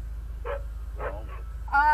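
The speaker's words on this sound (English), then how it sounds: "oh man, there's a lot of dogs. There's a lot of dogs!" Several dogs bark in short bursts close by, one sharp yelping bark at the end, with steady low background noise between calls.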